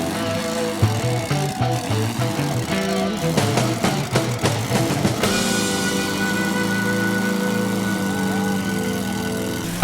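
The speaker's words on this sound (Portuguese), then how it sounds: "A gaiola show de lenta, falhando na alta" Engine of an off-road buggy at a Jeep club trail event in Vacaria, loud and close, stuttering and popping at first, then settling into a steady droning run.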